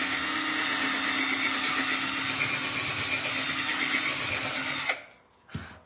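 A power drill bores a large hole into a wooden piece, a loud steady whirring grind for about five seconds that stops abruptly, followed by a short spin-down whir.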